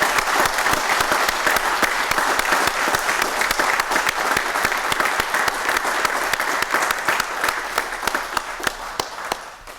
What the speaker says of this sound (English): Let's get a big cheer for these new sergeants.